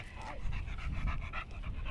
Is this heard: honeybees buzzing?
no